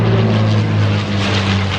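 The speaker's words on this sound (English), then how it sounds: "Lancaster bomber. That is wicked." An RAF Lancaster bomber, a four-engine propeller aircraft, flies past at an outdoor show, its loud, steady droning engine roar with a deep hum filling the whole stretch.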